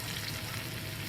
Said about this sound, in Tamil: எல்லாம் வதங்கினதுக்கப்புறம் நம்ம கழுவி வச்சுருக்கிற ப்ரான்ஸ் ஆட் பண்ணிக்கலாம்